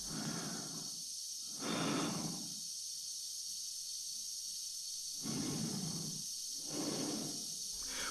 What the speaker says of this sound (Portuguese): engenheiros foram consultados para acertar com o som da respiração dentro do fato